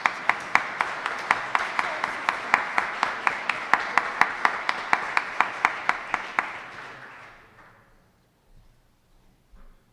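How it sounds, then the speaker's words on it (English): An audience at a memorial lecture for Jacques Barzun gives a round of applause, steady rhythmic clapping that continues evenly for several seconds before fading out to near silence. "can I just get everyone to give a big round of applause for Catherine and for Lizzie and for Jennifer"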